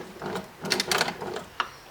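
A sewing machine stitching a dress being converted into a tunic runs in short uneven bursts of rapid needle clatter, close and moderately loud, with a small mechanical click near the end and no talking.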